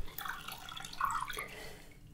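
Water drips and trickles from a wet knitted cowl squeezed out after soaking, a short burst of splashing droplets falling back into water, close and quiet, then fading.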